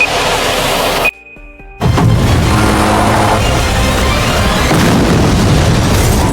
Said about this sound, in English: The explosion shredded the barricade and triggered a nearby zombie horde.